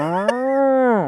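A cow gives a single drawn-out moo, loud and close, rising slightly and holding steady for about a second before it cuts off, with no talking over it.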